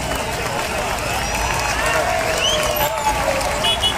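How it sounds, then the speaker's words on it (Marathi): A big outdoor crowd at a Govinda human-pyramid dahi handi event applauds loudly. Clapping blends with cheering, whistles and crowd chatter in a continuous roar. "जोरदार टाळ्या"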